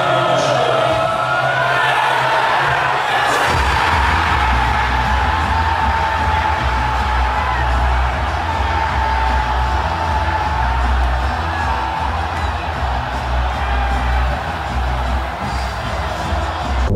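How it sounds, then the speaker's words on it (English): A packed English pub erupts as the home side scores at the World Cup: dense, sustained crowd roar with whoops and shouting that surges sharply after a short, quieter buzz of chatter, then stays loud and steady. "This is what every pub in England looks like when they score in the World Cup."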